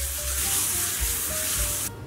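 A steel meat grinder plate rubbed back and forth on a flat sharpening surface, a faint continuous hissing scrape with soft rhythmic low strokes, heard alone.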